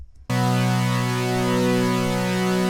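After a brief silence, thick sustained future bass synth chords swell in and hold, bright and layered, with no talking.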